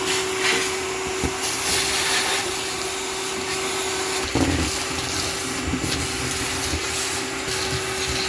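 A vacuum cleaner runs steadily close by inside a car, a Honda Accord CB7, with a continuous roaring whine and brief shifts in tone as the nozzle moves across surfaces.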